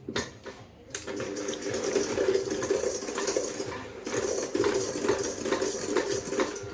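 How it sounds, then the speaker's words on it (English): An electric mixer beats butter and sugar for a lemon drizzle cake, giving a steady, close motor whir with a churning rattle that runs without a break. "So I'm just going to mix the butter and sugar until nice and fluffy."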